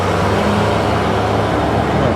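Steady roar of cars and other vehicles moving through the streets of St Augustine, Florida, a continuous, even traffic wash with no clear single pass-by.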